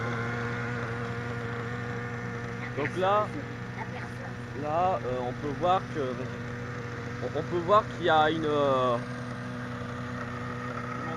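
Engine of a remote-controlled model running at a steady buzzing drone throughout, with someone talking over it intermittently.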